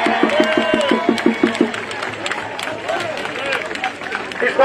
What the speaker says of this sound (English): let's give a round of applause to Larry Hamm